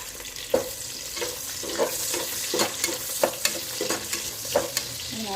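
Sliced onions fry in hot oil for a chicken pulao, a steady close sizzle broken by repeated sharp scrapes and knocks of a spoon stirring against the pan, with no voices.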